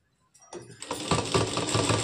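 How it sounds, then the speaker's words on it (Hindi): An electric sewing machine stitching a frill onto a sleeve, starting up from silence and settling into a steady, close whirring run. "यहाँ पर हम एक पैर की सिलाई लगाएंगे ऊपर से।"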